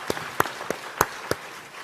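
A few scattered hand claps at a church presbytery pastor ordination ceremony, five sharp separate claps spaced irregularly, fairly quiet, with no talking over them.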